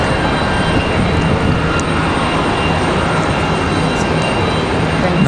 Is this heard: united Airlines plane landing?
yes